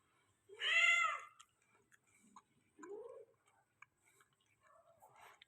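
A Persian cat in heat gives one loud, drawn-out meow, then a shorter second call, with faint soft mews and small clicks in between in a quiet room.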